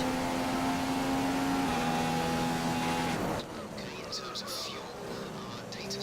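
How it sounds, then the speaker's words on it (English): A McLaren F1 car in the F1 2015 video game holds a loud, steady high-revving engine tone that drops sharply partway through to a quieter, rougher rumble, with a voice talking over it. "I'm driving as fast as I can right now in the McLaren"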